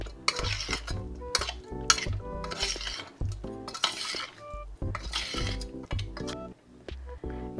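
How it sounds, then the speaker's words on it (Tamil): A meat mixture with kingfish, mutton, chicken, prawn and paneer being stirred with a spoon in a metal pan, with repeated clinking, scraping strokes in an irregular rhythm, close and fairly quiet. "இதை வந்து கரண்டியால் மிக்ஸ் பண்ணி விடுவோம்."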